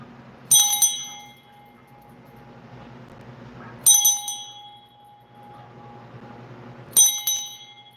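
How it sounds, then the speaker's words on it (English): A bell is struck three times, at even intervals a few seconds apart, each bright ring trailing off into a faint sustained tone over a quiet room background. "I'm gonna ring the bell 3 times."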